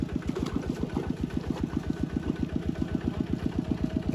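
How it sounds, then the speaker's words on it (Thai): A small single-cylinder walk-behind tractor engine chugs nearby in a fast, steady, even knocking rhythm, loud and continuous, while ploughing a field. "พี่น้องต้องได้ขับรถไถ2 คนเนาะ"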